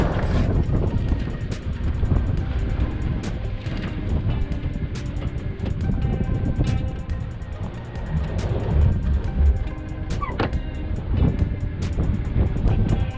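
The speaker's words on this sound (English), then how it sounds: "I placed my Honda Passport in sand mode." Honda Passport SUV crawling a rocky truck trail in sand mode with traction control off, a steady broadband engine and tire rumble with wind buffeting the microphone, continuous and close throughout.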